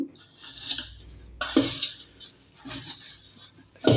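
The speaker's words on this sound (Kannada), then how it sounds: "ಇವಾಗ ಚೆನ್ನಾಗಿ ತಿರುಗಿಸ್ತಾ ಇರಬೇಕು" A spoon stirs girmit masala mixture with coriander leaves in a bowl, making close, irregular clinks and scrapes against the sides, with a louder burst midway and another at the end, and no talking.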